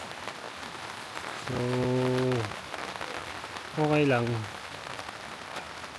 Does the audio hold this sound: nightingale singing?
no